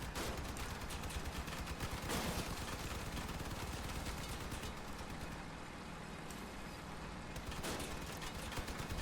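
Rapid machine gun fire from a vehicle build in the combat game Crossout, a continuous dense rattle of shots mixed with engine rumble, loud and steady throughout with a couple of brief surges.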